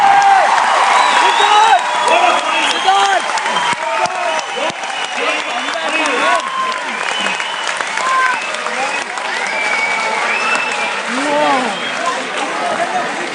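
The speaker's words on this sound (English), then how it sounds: "both these teams deserve a thunderous applause" Thunderous audience applause for both teams at the TCS IT Wiz Pune 2012 quiz tiebreaker, with cheers and whoops mixed in, dense and steady for the full stretch, while a voice speaks over the clapping.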